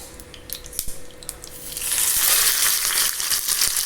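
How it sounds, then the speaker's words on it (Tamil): Oil heating on a tawa for frying fish, a soft crackle that swells into a steady, bright sizzle after a few light metallic clinks at the start. "மீன் ஃப்ரை பண்ணுறதுக்கு தவாவை வச்சு காஞ்சதும் தேவையான அளவு ஆயில் சேர்த்துக்குவோம்"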